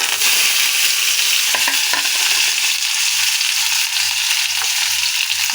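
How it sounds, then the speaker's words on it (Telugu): Chopped onion, tomato and coriander fry with mustard seeds in hot oil, giving a dense, loud sizzle with a regular low thumping of stirring underneath; no voices. "ఆయిల్ వేసి ఆవాలు వేసి కట్ చేసుకున్న ఆనియను టమాటో కొత్తిమీర ఇందులో వేసుకోవాలండి"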